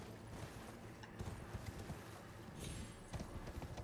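A horse galloping in the video game Elden Ring, with faint, rapid, uneven hoof thuds under a dense, noisy game soundscape at low overall volume.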